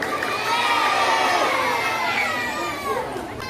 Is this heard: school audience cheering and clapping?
yes